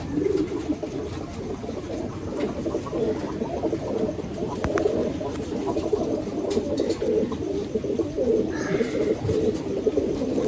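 Teddy pigeons coo steadily and low, a continuous murmuring flock close by, with a few faint chirps on top.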